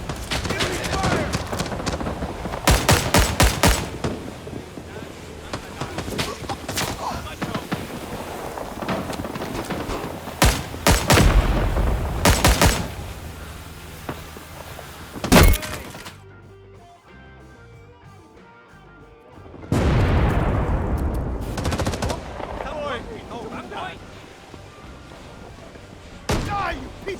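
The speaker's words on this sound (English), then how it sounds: "Enemy fire!" Enemy gunfire in Rising Storm 2: Vietnam during a Saigon defense battle, with loud close bursts of rifle and automatic fire, a brief lull, then renewed heavy shooting and a faint voice in the mix.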